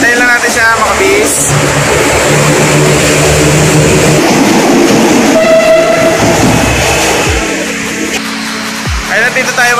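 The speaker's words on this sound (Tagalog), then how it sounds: "Ito yung tren." A train rumbles past along the railway beside Osmeña Highway, loud and close, with wheel clatter, a horn note and people talking over the roar as it goes by.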